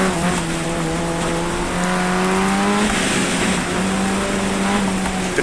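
Race car engine in the iRacing sim on a wet, rain-soaked track with an H-pattern four-speed gearbox, droning loudly and steadily in a low gear, its pitch rising and settling slightly as the car drives on.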